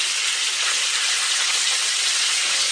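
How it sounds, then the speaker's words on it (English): Chicken frying in a pan on a stove: a steady, even sizzle with bright hiss runs unbroken and fairly close, with no voices. "We have the chicken in the pan, and it's frying."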